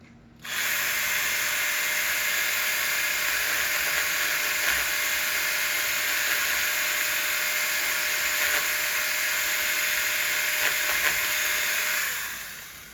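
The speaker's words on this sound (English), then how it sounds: "everything I'm sawing on is already dead wood" Steady, continuous high-pitched buzzing of a small power saw cutting dead wood on a bald cypress bonsai, running loud and unbroken for about twelve seconds before winding down.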